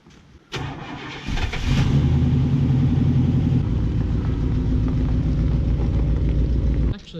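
A Ford work truck engine turns over after a door thump, catches and settles into a steady, close-up low rumbling idle that runs for several seconds before cutting off at the end.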